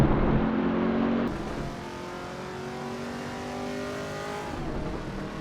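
A Chevrolet Camaro ZL1 in the Assetto Corsa Evo racing game holds a steady engine drone that shifts pitch as it goes downhill into a turn, with no talking.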